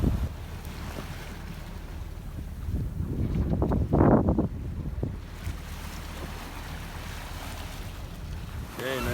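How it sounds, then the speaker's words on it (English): Strong wind rushes over a sailboat cruising at about eight knots across the Atlantic toward the Azores on a moonlit night. Steady gusting mixes with the wash of water against the hull, swelling louder midway. "Winds picked up."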